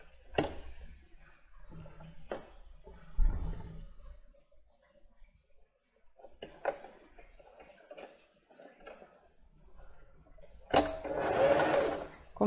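A domestic sewing machine stitches elastic onto the leg opening of plus-size panties. It makes a close whirring rattle in short bursts and one longer loud run near the end, with pauses and talking between them.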